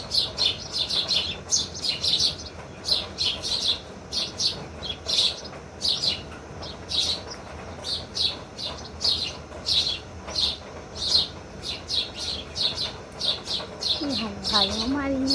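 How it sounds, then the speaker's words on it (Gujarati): Sparrows chirping in the morning in cloudy, rainy-looking weather: bright, busy twitters repeat steadily throughout over a low background hum, with a voice speaking near the end. "જોઈ શકો છો મસ્ત મજાના ચકલા બોલી રહ્યા છે"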